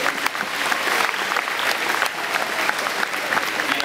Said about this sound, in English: Let's get a little round of applause.